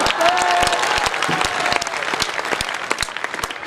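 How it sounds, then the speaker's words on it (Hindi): Audience at a Hindi poetry recital claps, starting as a full burst of applause with a faint voice underneath, then thinning into scattered individual claps. "आपकी तालियां इतनी नहीं मिली जितनी मुझे उम्मीद थी"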